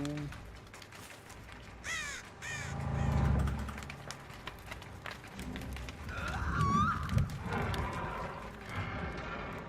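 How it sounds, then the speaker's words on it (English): Crows caw in the Dead by Daylight video game, a few harsh calls in quick succession alongside rumbling game sounds and footsteps, with a voice talking over parts of it. "Should watch out for crows."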